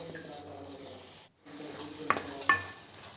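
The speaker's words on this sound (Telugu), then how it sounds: "అన్నీ కూడా కాసేపు ఆయిల్లోనే బాగా ఫ్రై చేసేసుకుందాం." Spices and garam masala frying in oil in a pan for kuska rice, a low sizzle with stirring, a brief break, then two sharp metallic spoon clinks against the pan near the end.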